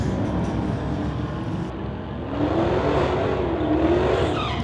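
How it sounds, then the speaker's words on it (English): Corvette launching off the line in a street-legal drag race, a loud sustained engine roar rising in pitch as it accelerates away, with another car leaving alongside and steady track noise throughout. "Look at that Corvette go"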